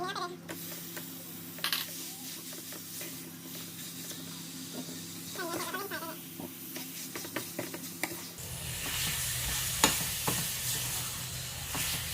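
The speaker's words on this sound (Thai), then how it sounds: "เราใส่น้ำมันด้วยเราจะผัดเครื่องแกงให้หอม" Curry paste stir-fries in oil for a spicy Thai beef curry, with a steady sizzle and scraping stirs that swell louder toward the end, nearby and close to the pan.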